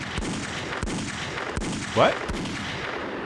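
Gunfire in The X-Files Game, a handful of sharp, fairly quiet shots spaced out irregularly over a steady low background, with a single brief spoken word partway through.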